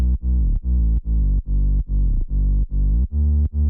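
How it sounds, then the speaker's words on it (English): A sub bass line made in FL Studio runs through Fruity Fast Dist distortion and OTT compression, giving loud, thick, sustained notes that pulse in a steady rhythm with short gaps between each hit. "we're gonna add distortion with fruity fast dist, compression with OTT, a soundizer to add some more power"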